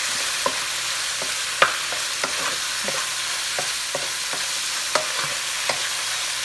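Shrimp frying in a pan for Puerto Rican-style Chinese fried rice give a steady sizzle with sharp scraping clicks from stirring at irregular intervals, close and alone.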